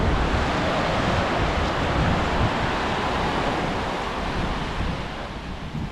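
Surf rolling in on Cooee Beach, Tasmania, a broad continuous roar of breaking water mixed with wind buffeting the microphone, easing slightly toward the end.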